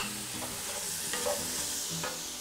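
Cherry tomatoes sizzling and being stirred in a pan of churrasco carreteiro at a winery, a soft, steady frying hiss with light scraping, quiet and close, with no talking.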